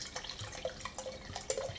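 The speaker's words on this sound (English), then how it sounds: "So I'm going to pour myself a glass, grab your glass" A drink is poured into a glass, heard as faint, brief liquid splashes and drips over a quiet room, with no talking.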